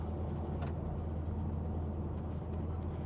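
Heater fan blowing inside a 1964 Mercury Park Lane convertible, a steady broadband whoosh with a low engine hum underneath, continuous and fairly quiet with no speech.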